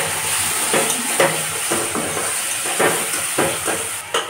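Tomato paste hisses and sizzles in hot oil in a home kitchen pan with onions, a broad steady frying crackle broken by repeated stirring scrapes at an irregular rhythm, with no talking.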